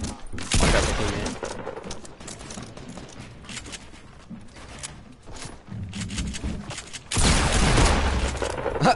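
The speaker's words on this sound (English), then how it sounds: "I just one-shot pistoled him." Pistol shots in a video game shooter, several loud bursts of gunfire at the start and again near the end, with quieter in-game sounds between them.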